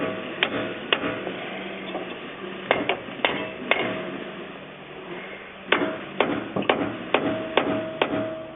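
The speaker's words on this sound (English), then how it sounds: "Sometimes it takes a little tap of the hammer to get it in place." Light hammer taps strike a strut bushing on a 2002 VW Golf in scattered pairs and small clusters, sharp and close, with pauses in between.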